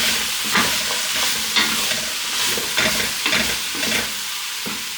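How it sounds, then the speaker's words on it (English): Butternut squash and apple sausage being stirred in a sizzling pan: steady frying hiss with repeated scraping strokes of the spoon, close and fairly loud, no talk. "Make sure you're stirring, intermittently."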